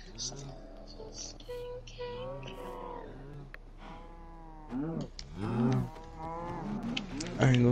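Several cows moo loudly and close by, long drawn-out calls overlapping one another, with a few more bellows rising toward the end.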